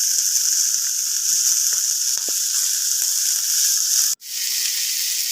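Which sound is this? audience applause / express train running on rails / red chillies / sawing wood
red chillies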